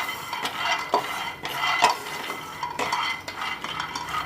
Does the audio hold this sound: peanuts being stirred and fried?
yes